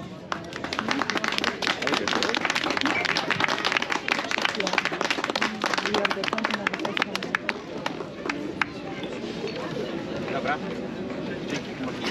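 A crowd at an outdoor health picnic in Nowy Dwór Mazowiecki applauds during a race awards ceremony, with steady, dense clapping and cheering that carries on throughout under a background of voices.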